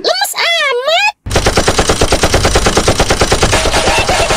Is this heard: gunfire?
yes